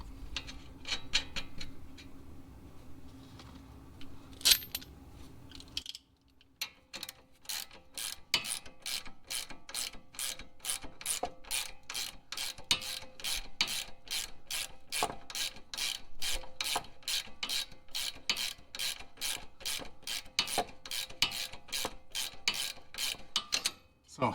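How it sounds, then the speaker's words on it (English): A hand ratchet clicking rapidly and steadily as it tightens a lower control arm bolt on a 2005–2010 Honda Odyssey, a close, even run of sharp ticks following a few softer handling noises and a brief pause. "why are you ratcheting this down by hand versus just running an impact?"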